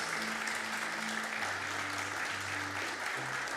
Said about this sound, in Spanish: Denle un aplauso al Señor y se calientan las manos